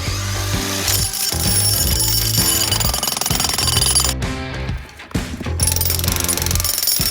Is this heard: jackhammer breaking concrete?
yes